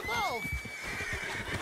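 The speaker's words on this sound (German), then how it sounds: "Jetzt kommt auch mein Pferd." A horse in Red Dead Redemption 2 whinnies loudly with a wavering, descending neigh, followed by a thin sustained tone and soft hoofbeat-like thumps in the game soundscape.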